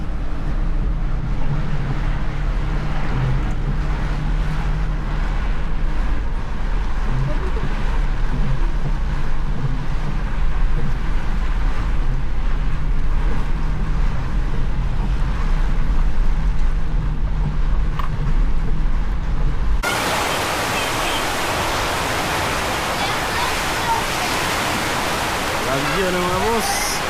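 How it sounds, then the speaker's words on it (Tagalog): Heavy rain pours on a moving vehicle travelling through Santo Tomas, a dense steady roar that turns into a brighter, harsher hiss near the end, with people talking over it. "Napakalakas ng ulan,"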